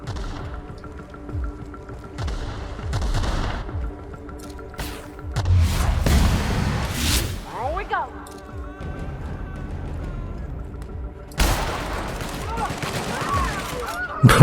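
Bursts of machine gun fire with scattered shots during a firefight in The Outer Worlds video game, loud and clustered over several seconds amid other combat noise.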